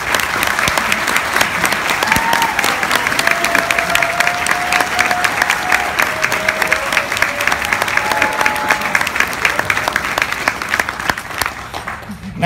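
A graduation commencement audience applauds, a dense, steady wash of many hands clapping that fills the hall for several seconds, with faint crowd voices underneath before it thins out at the end.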